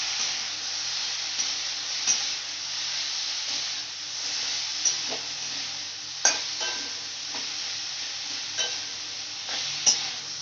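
Elephant apple and cucumber chutney with turmeric cooking in a pan, a low steady sizzle and hiss with periodic spatula scrapes and knocks against the pan as it is stirred.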